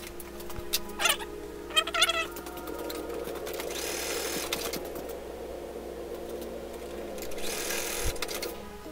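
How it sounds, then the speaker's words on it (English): A sewing machine stitches pieces of a pinwheel-design table runner quilt. It runs in a steady, fairly quiet hum with short bursts of faster stitching, heard alone. "But nothing speeds up the sewing part of it."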